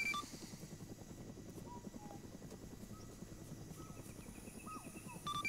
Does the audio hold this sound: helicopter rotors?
yes